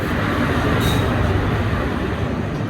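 A train rumbles past at a railway station, loud and continuous with a low heavy drone and wheel noise throughout.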